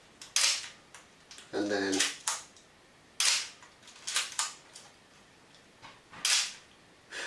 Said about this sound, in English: A couple of film frames advanced and we're ready to go.